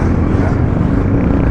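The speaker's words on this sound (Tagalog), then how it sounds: "Ay, may mga big bike." Large motorcycles passing on a road, a loud, close engine roar that fills the brief moment, with a faint voice beneath.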